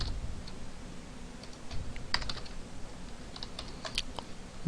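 Typing on a computer keyboard while building a web form in Dreamweaver CS4: a quiet run of close key clicks in irregular bursts over low room hum, with no talking.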